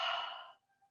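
A forceful breathy lion's breath exhale during a vinyasa yoga practice, one loud airy sigh lasting about half a second, then fading into quiet tones.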